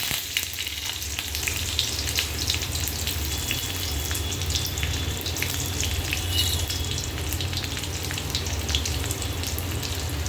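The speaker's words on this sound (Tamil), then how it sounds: "கடுகு பொரிஞ்சதும் கருவேப்பிலை வெங்காயம் சேர்த்துக்கலாம்." Mustard seeds, curry leaves and onion sizzle and crackle in hot oil for a tempering, a dense steady frying hiss with scattered pops, close and continuous with no voices.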